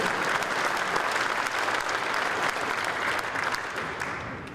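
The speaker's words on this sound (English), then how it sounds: "Let's have another round of applause." Audience at an auto racing hall of fame induction ceremony gives a sustained round of applause, dense and steady throughout, easing slightly at the end.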